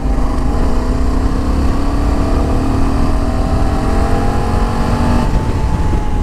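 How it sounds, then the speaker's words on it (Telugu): A Honda Africa Twin motorcycle engine drops in pitch as the throttle is released and engine braking slows the bike in gravel mode at the highest braking level. The steady, loud drone has descending tonal lines and wind or road noise throughout, with no talk. "సో ఇంజన్ బ్రేకింగ్లో ఈ విధంగా ఉంటుంది"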